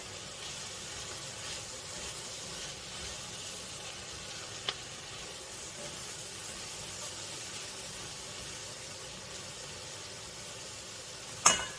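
Collard greens in oil give off a steady, soft sizzle and hiss in a pan, with a couple of brief clicks or clinks, the last one near the end. It sounds faint and even throughout, and no one speaks.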